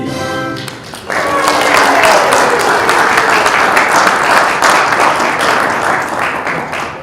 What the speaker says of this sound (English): let's give another round of applause for Lavina, Aislinn, Stella, and Aaliyah